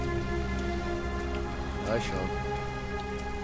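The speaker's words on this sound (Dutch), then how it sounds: "In de regen." Steady rain falls in the video game Heavy Rain, a constant even hiss under a short spoken greeting, with a brief swell midway.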